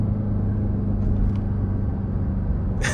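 Jeep Trackhawk driving with a steady low engine rumble and a thin supercharger whine riding on top, constant and close from inside the cabin.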